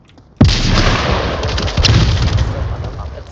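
A grenade explodes in a team shooter video game match, one sudden loud blast followed by a long roaring, crackling rumble that fades slowly, with no talk over it.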